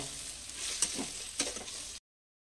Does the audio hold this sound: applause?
no